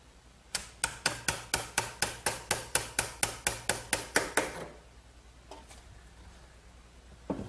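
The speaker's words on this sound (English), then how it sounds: "I'm just removing the excess with a good sharp chisel." A sharp chisel pares excess wood from a joint in about fifteen crisp, evenly spaced strikes from a mallet, close and loud, then stops, leaving a quiet room with a couple of faint knocks.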